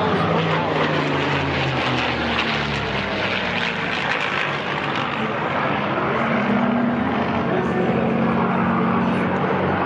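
A P-51 fighter plane's propeller engine roars loud and steady throughout as it flies at an airshow, a continuous drone with shifting pitch.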